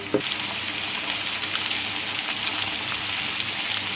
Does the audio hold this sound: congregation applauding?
no